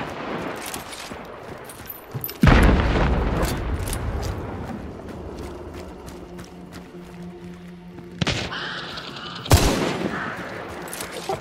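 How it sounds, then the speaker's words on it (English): In the video game Hunt: Showdown, gunshots ring out at a red explosive barrel: a sharp loud blast with a decaying rumble, then two more heavy bangs close together later, over faint background noise. "I'm shooting a red barrel"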